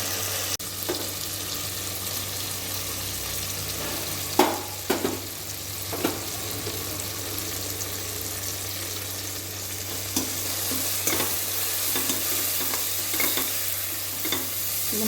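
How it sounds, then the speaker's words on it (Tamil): Ground masala paste with ginger and garlic frying in a pan, a steady sizzle broken by several sharp scraping strokes of a spoon stirring it, close up and with no talking. "இதுக்கப்புறம் நம்ம இந்த அரைச்சி வச்சுருக்கிற மசாலாவை உள்ளே சேர்க்கணும்"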